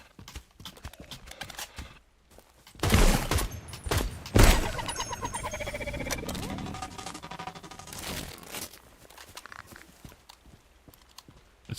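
Gunfire in the video game Active Matter, with a few loud, sharp close shots followed by quieter clattering and rattling under a noisy game soundscape.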